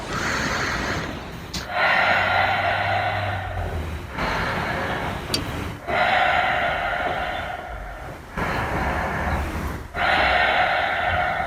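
Loud, rhythmic breathing during a Pilates leg exercise, long drawn inhales and exhales alternating in steady cycles of about two seconds, close to the microphone with no talking.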